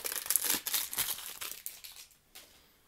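Plastic packets of fake Skrepyshi figures are torn open, giving close crinkling and ripping bursts that fade to quiet rustles after a couple of seconds.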